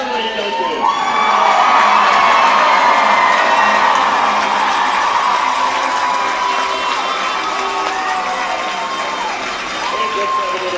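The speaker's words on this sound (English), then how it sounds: "let's have another round of applause for 2026 state champs" A large crowd at a Danville Blue Devils state championship softball game applauds and cheers steadily for the champions, loud and sustained throughout, with whoops and children's shouts mixed into the roar.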